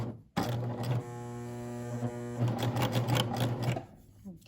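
A sewing machine runs steadily while finishing the raw edge of a maxi dress hem, a close mechanical drone with a strong low hum, rising briefly in pace near the end.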